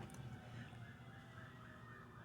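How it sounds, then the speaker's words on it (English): Sirens wail faintly in the distance in South Tennessee, a wavering tone rising and falling under a low background hum, with no talking. "Look, I hear sirens where I'm at"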